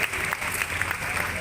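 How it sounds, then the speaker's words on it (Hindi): An audience at a Ramlila festival ground-breaking ceremony claps steadily, a dense wash of many hands close by, sustained throughout the brief moment without a break. "जोरदार तालियां बजा दो"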